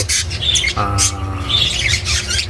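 African lovebirds squawking loudly and close by, a few harsh repeated calls and chirps in a short burst.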